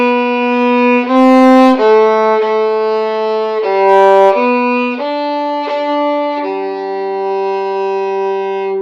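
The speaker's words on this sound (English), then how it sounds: "the last line of lightly row of number 56 should sound like this." A violin plays the last line of Lightly Row in slow half notes, a steady sequence of sustained bowed pitches stepping through the melody, close and clear with no talking.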